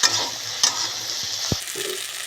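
Crushed neem leaves frying in a pan with turmeric and salt give a steady, close sizzle with a few sharp scrapes of stirring, no voices.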